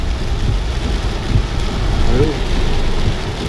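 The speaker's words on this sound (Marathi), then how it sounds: "तुम्ही बघू शकता पाऊस कसला आहे" Heavy rain pours at night in Karmala, a dense steady roar with close splashing that fills the whole stretch without pause.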